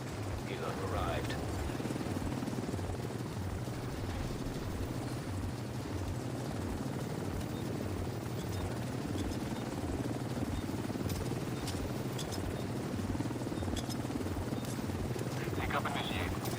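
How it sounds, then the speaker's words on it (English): A helicopter in the video game The Division 2 arriving at an extraction zone, a steady low rotor thrum running throughout, with in-game voices talking over it. "Helo arrived."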